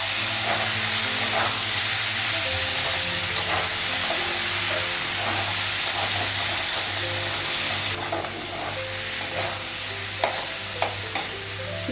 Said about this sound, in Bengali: শিম ভাজাটা হয়ে গেছে।